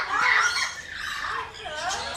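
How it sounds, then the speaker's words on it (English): An emerald toucanet, a small green toucan, gives harsh squawking calls close by, with a loud raspy burst at the start followed by further scratchy squeals. "We have a emerald toucanet here."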